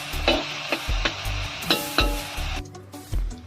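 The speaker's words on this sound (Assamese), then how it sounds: "ৰঙা পৰি যোৱাকৈ পিঁয়াজখিনি ভাজিব।" Onions frying and being stirred in a pan while duck curry is prepared in a village kitchen; steady sizzle broken by repeated scraping stirs and soft clinks of the spoon, close and alone.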